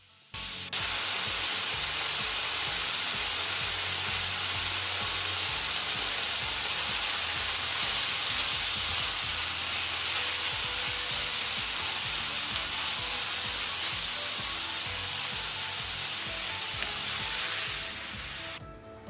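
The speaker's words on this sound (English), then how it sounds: "Now fry your bacon. You're not cooking this fully, you're just basically browning it and releasing some of the fat." Bacon browning in a pan, rendering its fat for a Dublin coddle, a loud, even sizzle that starts abruptly and holds steady with faint stirring underneath.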